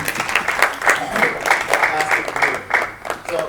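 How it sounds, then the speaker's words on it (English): Audience clapping at a live show, an uneven rhythmic patter of hands that swells and dips, with voices mixed in underneath. "Let's give a round of applause"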